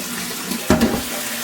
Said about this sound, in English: just run some hot water